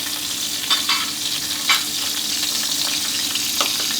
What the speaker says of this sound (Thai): ผัดให้กุ้งโดนกับกระทะน้ำมันร้อนๆสักครู่เดียวครับ